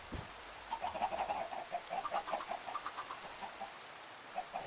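Chickens cluck in the video game Minecraft, a run of short, repeated clucks at moderate volume over a soft, steady hiss.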